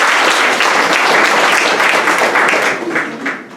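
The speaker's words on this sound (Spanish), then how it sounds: "Así que démosle un aplauso." Warm applause from an audience at the Amazon Synod, many hands clapping in a loud, dense roar that holds steady before thinning out and fading near the end.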